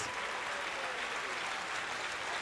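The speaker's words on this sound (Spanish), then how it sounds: "Dele un aplauso a, a los inteligentes" A church congregation claps during a Spanish-language sermon, a dense, steady roar of applause filling the whole moment without pause.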